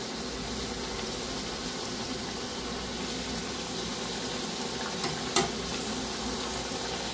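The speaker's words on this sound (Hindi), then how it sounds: "इस तरह से एक एक पूरियों को डालते जाएंगे और हल्का सा चलाते हुए इसको फूलने देंगे" Sweet potato puris frying in hot oil, a steady dense sizzle running throughout with light stirring, one brief louder splash or crackle near the end.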